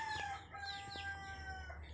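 Chicken clucking and crowing nearby, a few short calls and a drawn-out cry over two seconds, faint against a low background hum.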